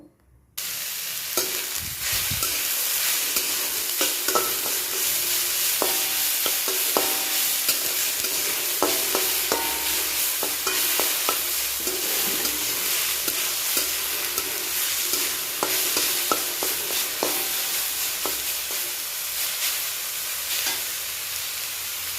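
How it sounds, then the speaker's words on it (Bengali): Potatoes fry in ghee in a kadai with a loud, steady close-up sizzle, broken by intermittent clicks and scrapes of stirring, and no talking. "প্রথমেই আমরা কড়াইতে ঘি দিয়ে নিয়েছি এবার আলুগুলোকে দিয়ে নেবো"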